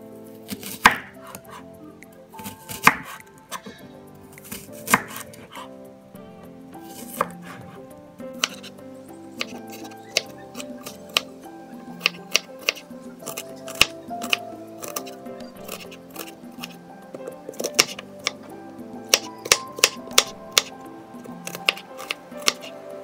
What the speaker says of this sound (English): cut my spring onions into smaller pieces so that they can be easily blended